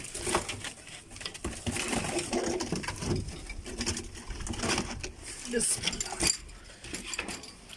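Breeder pigeons in a loft setup cooing softly and repeatedly at close range, mixed with faint rustling and clinking in the background.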